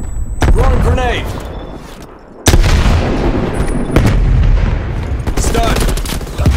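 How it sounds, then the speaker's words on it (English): A thrown grenade in Call of Duty Black Ops Cold War goes off as a sudden loud blast amid close gunfire, followed by a heavy rumble and more shots, with game voices over it. "Throwing grenade."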